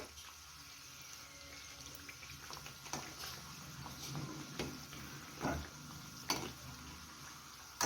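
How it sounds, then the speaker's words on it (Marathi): Matar kachori frying in oil over a low flame, a steady faint sizzle and bubbling with a few soft knocks and scrapes from a utensil, quiet and continuous. "मंद आचेवर सात ते आठ मिनिट आपण ह्या कचोरी मस्त असं तम्म फुगेपर्यंत फ्राय करून घेऊया"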